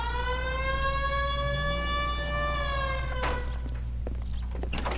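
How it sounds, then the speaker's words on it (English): Police car siren in L.A. Noire wails loudly with a steady rising tone held for about three seconds, then cuts off abruptly, leaving a low engine rumble and scattered clunks. "Hit the siren."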